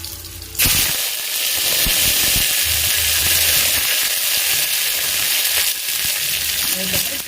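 Curry leaves hit hot oil and burst into loud, close sizzling, with an abrupt start followed by a sustained crackling hiss that continues as a Tamil potato tomato kurma base is prepared.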